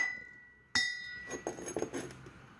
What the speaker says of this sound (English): I'll hammer it to make a flare